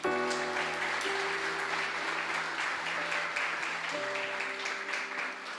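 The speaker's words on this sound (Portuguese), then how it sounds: "Vamos aplaudir a Jesus" A church congregation claps steadily during a family worship service, sustained dense applause with sustained musical tones held underneath.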